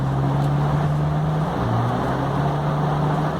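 A car in the Mad Out 2 mobile game drives into water, producing a steady engine drone under a loud, continuous washing rush of water and wind-like noise, with no one talking.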